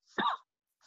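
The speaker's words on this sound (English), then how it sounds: "Who is coughing?" One short, faint cough, followed by a brief trailing breath.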